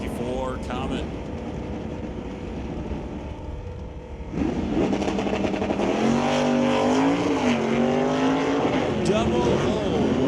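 A Ford F-150 and a 1964 Comet run a Super Shifters drag race at Mission Raceway Park, a loud steady engine roar with shifting pitch sweeps that swells midway, mixed with a track announcer's voice throughout.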